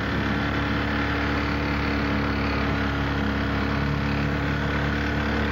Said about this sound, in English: Let's cut off the engine for a minute and get some peace.